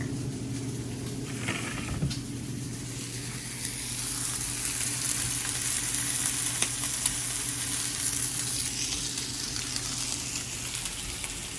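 Onions, cheese and pastrami sizzle steadily on a hot grill for a sandwich, a continuous crackling fry with occasional scrapes and stirring, close and moderately loud, with no talking.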